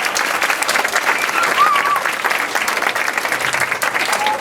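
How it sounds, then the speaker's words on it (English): A parish gathering on the last day of vacation Bible school camp breaks into a round of applause, loud, continuous clapping from a full room with a faint voice or whistle rising above it briefly. "Round of applause."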